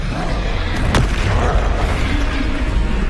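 A spell cast in Hogwarts Legacy bursts out as a loud, close boom with a sharp crack about a second in, followed by a rumbling, mechanical swell that fills the rest of the short moment.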